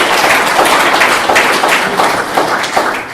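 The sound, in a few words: round of applause from audience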